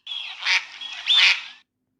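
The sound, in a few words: swan call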